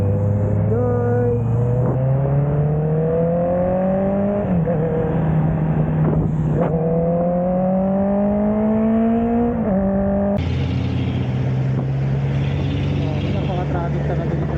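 A rider on a motorbike moves through heavy road traffic. The bike's engine drones and revs up in rising sweeps, and other vehicles sound close by throughout.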